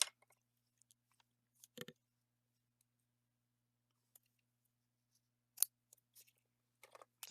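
Ribbon scissors are picked up and handled at a crafting table: a handful of sharp metallic clicks and snips scattered across an otherwise quiet stretch, close and fairly soft.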